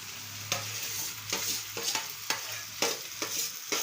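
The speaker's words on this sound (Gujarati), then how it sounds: "હવે આપણે મસાલાનો વઘાર કરી નાખ્યો છે. હવે નાખશું આપણે બટેટા." Mashed boiled potatoes sizzle steadily in hot tempered spices while a spoon scrapes and stirs in repeated strokes, close and fairly quiet, no voices.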